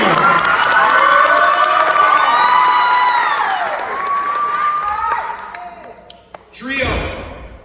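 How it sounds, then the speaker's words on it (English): Loud crowd cheering and shouting from a high school audience welcoming a young men's group on stage, with rising whoops and applause that fade, then a fresh burst near the end. "Ladies and gentlemen, clap it up for T.R.I.O."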